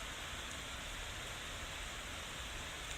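Rain falls at midnight in a soft, steady hiss, faint and even throughout with no distinct drops or other sounds standing out.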